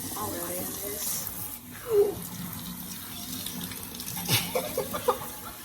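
Cold water runs from a tap while a boy's coarse hair is washed, a steady close splash and gush with a few sharper bursts, under people talking.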